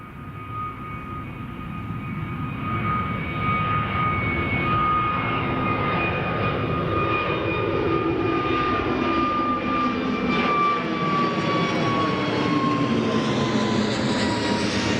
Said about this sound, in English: Might just see it after this EasyJet takes off.